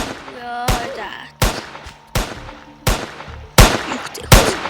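Gunfire in a video game: six sharp, loud shots at roughly even intervals about 0.7 seconds apart, with a brief voice just before the first.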